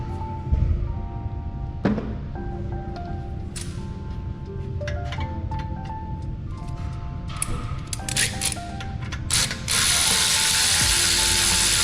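Ratchet clicking as brake caliper bolts are tightened on a 2017 Porsche Cayenne S, with close, crisp bursts of rapid pawl clicks and metallic clinks, ending in a sustained hiss.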